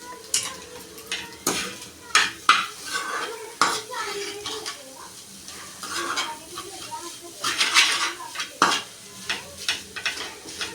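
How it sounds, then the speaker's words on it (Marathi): Boiled potatoes for aloo paratha filling are mashed with a spoon in a pot, giving repeated close scraping and knocking of metal against cookware in an uneven rhythm, with no talking. "मी आताच बटाटे जरा मॅश करून घेते चमच्याने, फोडून घेते."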